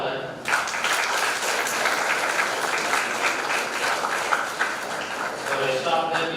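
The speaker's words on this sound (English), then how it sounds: "So, clap for that." An audience at a one-day continuing education programme breaks into applause that starts abruptly and continues dense and even for several seconds, fairly loud and close, with no talking over it.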